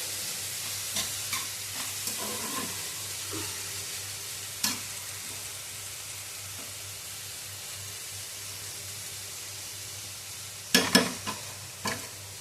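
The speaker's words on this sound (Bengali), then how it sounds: "এগুলো ভালো করে মিশিয়ে দিয়ে এটা চাপা দিয়ে রেখে দেবো। ভাজা আমার প্রায় হয়ে গেছে।" Vegetables for mixed fried rice sizzle quietly in a pan under a steady low hiss, broken by a scraping stir near the middle and a short burst of clattering stirs near the end.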